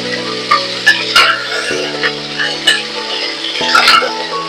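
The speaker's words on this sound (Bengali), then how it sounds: "এবং আমি এখানে একটু তেলে ফ্রাই করে নেবো।" Chopped vegetables frying in oil in a pan on a home stove, a steady sizzle with sharp clinks and scrapes of stirring utensils against the pan.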